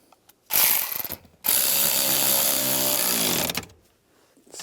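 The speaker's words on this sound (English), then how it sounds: "And the 2 bolts. And we'll tighten that down." Ratchet wrench snugs the bolts on a parking brake cable for a 1998–2010 Volkswagen Beetle, heard as two loud bursts of rapid clicking. The first burst is short and the second runs about two seconds, both close and with nobody talking.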